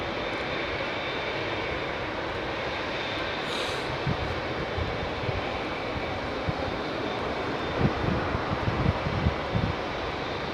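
An Etihad Boeing 787 roars at Heathrow Airport, a loud steady broadband engine rumble that fills the whole stretch, with a few louder gusts near the end and no voices.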